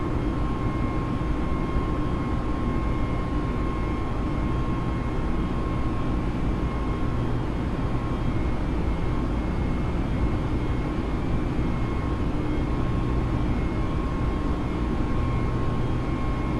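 Steady, loud broadband roar of Airbus A320neo jet engines at climb power after departure in Microsoft Flight Simulator, a continuous drone with faint tonal hums running unbroken throughout.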